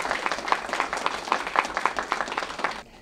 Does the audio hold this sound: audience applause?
yes